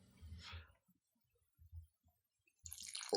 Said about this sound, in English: I have some milk pre-prepared here, and I'm going to pour some of it in now.